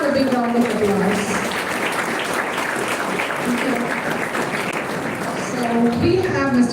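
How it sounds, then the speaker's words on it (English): Steady, dense applause from an audience welcoming guests at a generative AI workshop at Loyola Institute of Technology, filling the whole stretch with a loud wash of clapping while a voice talks over it. "Can we have a big round of applause?"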